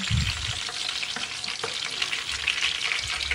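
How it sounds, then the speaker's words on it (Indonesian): Tofu frying in hot oil, a steady dense sizzle with bubbling and a few soft stirring scrapes, close and continuous throughout. "Kita mau goreng terlebih dahulu tahunya ya."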